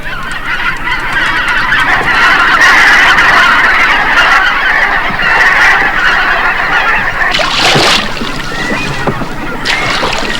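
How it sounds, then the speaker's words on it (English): Brent geese raise a loud, continuous chorus of alarm honks, many birds calling at once up close, with a few sharper cries standing out late in the sequence. "the Brent goose was ever alert to danger and ready to cry alarm"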